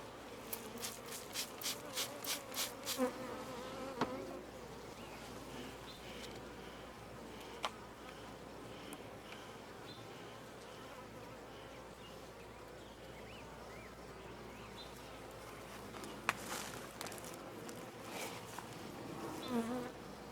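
A crowd of honeybees buzzing around a full hive box on a homestead, a continuous hum close by with scattered sharp ticks and a few clicking bursts near the start and end, no voices.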